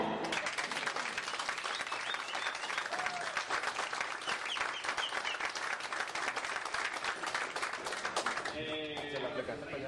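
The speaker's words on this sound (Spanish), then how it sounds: "Y un aplauso para todos." A crowd breaks into sustained, dense applause that carries on for several seconds before a voice starts speaking near the end.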